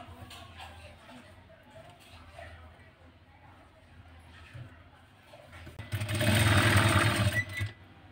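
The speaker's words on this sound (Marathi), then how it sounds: "तर आपण टिप मारून घेऊया." A sewing machine stitches a four-tuck cross-belt strip blouse in one loud, fast, whirring burst of about two seconds near the end, after quieter handling sounds and talk.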